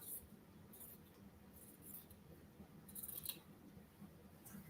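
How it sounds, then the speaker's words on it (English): Scissors trim the fabric edge of a sewn drawstring bag, making faint, repeated crisp snips against quiet room noise. "I'm going to trim that off."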